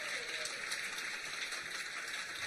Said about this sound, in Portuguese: uma salva de palmas para os nossos astros